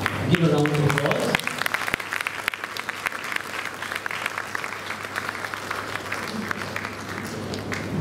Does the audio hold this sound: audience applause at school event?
yes